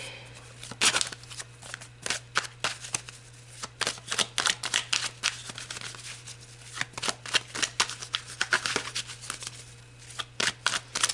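Tarot cards being shuffled by hand, a long run of quick crisp riffles and soft slaps in an uneven rhythm, close and clear over a low steady hum, with no talking.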